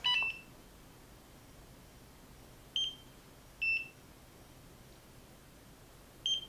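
Four short electronic beeps from a home laser skin device, spaced irregularly over a quiet background, close and fairly faint with near silence between them.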